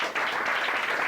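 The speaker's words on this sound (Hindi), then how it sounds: "जोरदार ताली जा रही" Applause breaks out for a student in a classroom, a steady, even wash of hand-clapping from a group lasting about a second with no talk over it.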